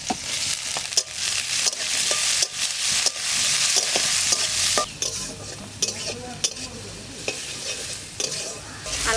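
Tomato is stirred into frying onion and green chili in a pan for kaon-rice dry khichuri, a loud sizzling hiss broken by scattered scrapes and knocks of the spoon against the pan.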